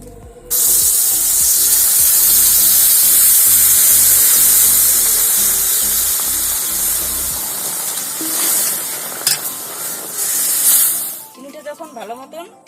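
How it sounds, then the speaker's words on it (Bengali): Pre-boiled milk is poured into a hot pan while making kulfi-style ice cream, giving a loud, broad hiss and sizzle that holds steady for several seconds, then fades and breaks up near the end. "এবার এর মধ্যে আগের থেকে জাল করে নেওয়া দুধটা ঢেলে দেবো"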